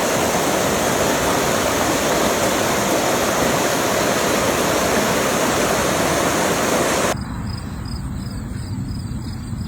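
Loud, steady roar of rushing floodwater in Indiana fills the whole stretch, dropping slightly in brightness near the end but continuing without pause.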